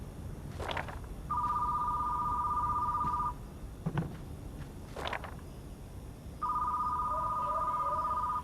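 A telephone rings inside a store-management video game, sounding as two long steady electronic ringing bursts separated by a few soft thumps and footstep-like knocks.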